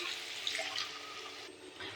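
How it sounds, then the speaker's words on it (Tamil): Water being poured into a cooking pan while making pudalangai kootu, a steady close splashing pour lasting about two seconds, ending in a sharp clink. "இப்போ கொஞ்சமாக நம்ம தண்ணி ஆட் பண்ணிடலாம்."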